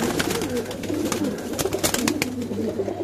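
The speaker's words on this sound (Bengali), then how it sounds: "এই যে এই কবুতরটা দেখেন" A Beji breed pigeon coos close by in repeated soft, throaty rolling phrases, with brief flutters and faint background noise throughout.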